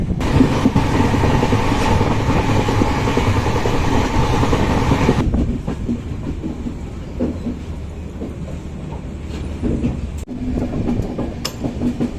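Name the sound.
Prashanti Express train running on rails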